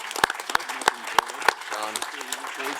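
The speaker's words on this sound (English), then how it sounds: "Nice round of applause." Applause breaks out from a conference audience at a shipping event's closing session: a few sharp, spaced claps sound under a voice speaking over them.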